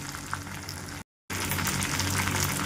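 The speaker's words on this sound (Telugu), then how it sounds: "ఇది జస్ట్ ఒక 2-3 minutes ఆ నూనెలో మగ్గితే చాలండి" Fenugreek leaves for a pickle fry in hot oil with a steady, dense sizzle and crackle. The sizzle cuts out briefly, then comes back louder and keeps going with no voices.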